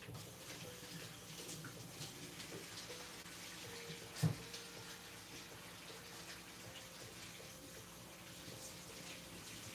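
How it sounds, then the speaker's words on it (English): A tap runs steadily at low level while hands are washed at a sink, a continuous faint watery hiss with one brief sharp knock partway through and no talking. "I gotta wash my hands"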